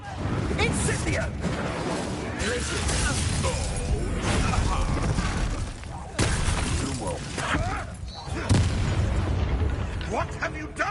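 An Incendio fire spell is cast in Hogwarts Legacy amid dense, loud game effects: crashing, shattering bursts and booms layered under continuous talking.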